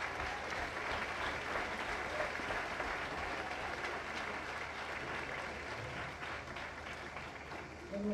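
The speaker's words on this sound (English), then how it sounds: "Let's give him a round of applause." A crowd applauds at a gathering, producing dense, even clapping that holds steady for the whole stretch and tapers only slightly toward the end.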